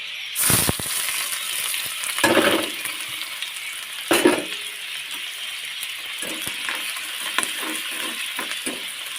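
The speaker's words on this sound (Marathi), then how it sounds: "मी थोडंसं तेल काढून घेतलं आणि त्याच्यामध्ये कांदा आहे तो टाकून घेते" Onion fries in oil in a pan for bitter gourd curry, a steady sizzling hiss broken by a few sharp stirring scrapes and clatters of a spoon against the pan, with no voices.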